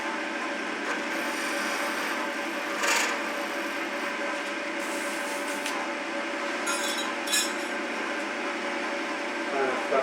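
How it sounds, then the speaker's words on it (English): Sandpaper rasps steadily against a spinning wooden workpiece on a woodturning lathe, a continuous close hiss with a few brief louder scuffs along the way. "What you want to do is sand everything except the ends to shape."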